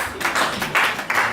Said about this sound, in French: nous allons applaudir pour le frère Alain et son équipe